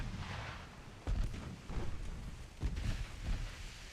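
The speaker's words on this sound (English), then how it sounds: "The shells are coming in already" Naval artillery shells landing around warships in Ultimate Admiral Dreadnoughts: two or three deep, heavy booms with rumbling splashes over a steady roaring wind-like background, no voices.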